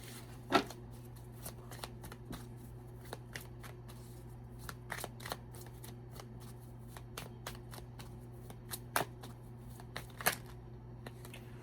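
Tarot-style Love Oracle cards are shuffled by hand in a quiet room, a long run of soft riffling flicks and taps with occasional sharper snaps over a steady low hum.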